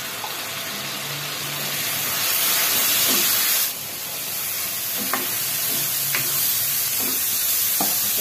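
Broccoli, carrot, cauliflower and other vegetables sizzle steadily in a hot pan after a splash of soy sauce, with a continuous hiss, steam and a few scraping stirs along the way, close up and with no talking.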